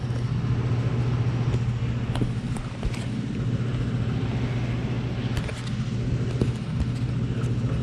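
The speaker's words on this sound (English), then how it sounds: "Sound like the blower motor is on." A Trane furnace blower motor runs with a steady low hum and even broadband whoosh throughout, joined by a few faint clicks and taps.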